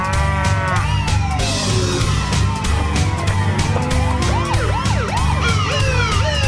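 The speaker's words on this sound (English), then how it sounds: "The chase sends frightened cattle in every direction." Frightened cattle in a cow pasture during a high-speed police pursuit, with overlapping moos and a wailing police siren sweeping up and down over a continuous loud engine rumble.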